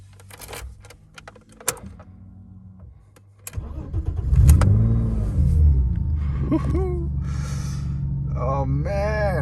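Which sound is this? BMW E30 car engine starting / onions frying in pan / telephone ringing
BMW E30 car engine starting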